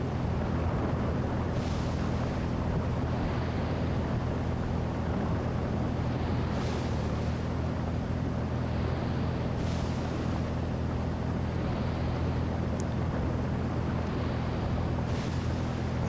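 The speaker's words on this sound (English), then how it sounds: "Let's turn that wind down a bit." Steady roar of wind and sea wash around a boat in a ship simulator game, a dense continuous rumble with a low engine-like drone underneath and no voices.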